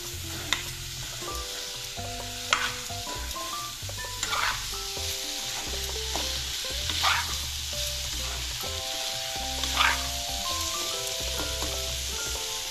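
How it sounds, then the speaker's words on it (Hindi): Potato and cauliflower pieces hit a frying spiced masala for aloo gobi and are stirred through, a constant close sizzle broken by several scraping spoon strokes, all under soft background music. "अब हम इसमें आलू डाल देते हैं और गोभी भी डाल देते हैं। अच्छी तरह से इसे मिक्स करते हैं।"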